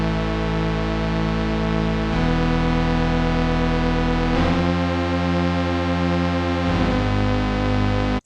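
A thick, distorted Solar 50 synthesizer plays sustained chords through its filter and effects that shift every couple of seconds, buzzy and effects-laden with a chorused shimmer, loud and continuous.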